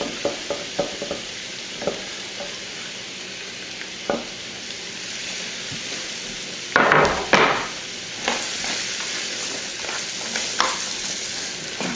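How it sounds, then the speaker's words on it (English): Onions frying in a pan for a curry, a low steady sizzle with scattered scrapes and clinks of a utensil stirring, including a louder burst of stirring midway. "I'm going to add a whole huge pile of onions right here. I'm going to let them get cooked a little bit"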